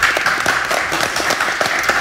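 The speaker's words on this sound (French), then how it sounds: "Maintenant on applaudit." Dense applause from a crowd at a French rap battle fills the space, many hands clapping loudly and continuously without pause.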